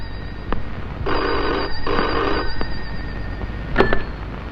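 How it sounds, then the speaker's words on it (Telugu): A telephone rings in two bursts of bell-like trilling, each lasting nearly a second, over low background noise. A few sharp clicks and knocks follow. "పాపం ఏదో అర్జెంట్ ఫోన్ కాల్ ఉంది,"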